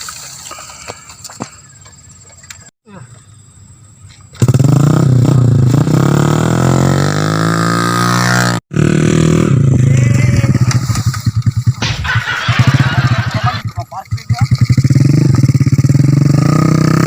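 A motorcycle engine runs loud and close, rising and falling through sustained revs with brief cutouts and clattering mechanical noise over it.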